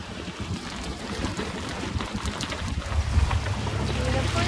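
A sailboat's small motor drones steadily at low pitch, mixed with wind buffeting and water noise, growing slightly louder toward the end, off the Queensland coast between Tangalooma and Double Island Point.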